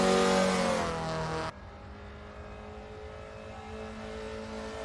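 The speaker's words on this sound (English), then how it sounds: "this vehicle just sounds like it is just like an angry puppy" A Mini Cooper with a B16 engine in the racing game Assetto Corsa EVO revs hard for about a second and a half, then drops abruptly to a lower, steady engine drone.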